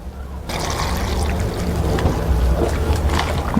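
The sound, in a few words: water being poured onto dried mushrooms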